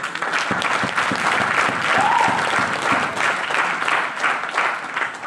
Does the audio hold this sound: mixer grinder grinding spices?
no